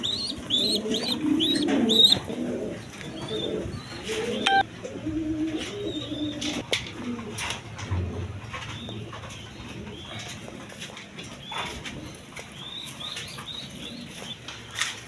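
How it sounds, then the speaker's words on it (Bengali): Racing pigeons kept in a loft for sale, with tagged birds among them, coo in repeated soft throaty phrases, layered with chirps and light rustling, fairly close, with no talking. "রেস করা কবুতর।"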